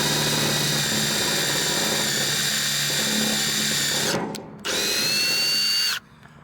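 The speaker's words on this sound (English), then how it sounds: "we're pre-drilling these so that we don't crack it" A power drill whines loudly and close, pre-drilling wood, running steadily, stopping briefly, starting again, then cutting off.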